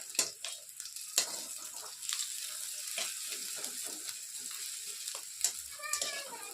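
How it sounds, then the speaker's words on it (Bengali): Onion and green chilli fry in a pan with a steady soft sizzle, punctuated by a few clinks of a stirring spoon against the pan. "তো আমার পেঁয়াজ আর লঙ্কা ভাজা হয়ে গেছে,"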